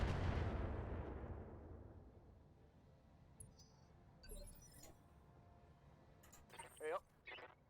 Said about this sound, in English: keeps taking these barrages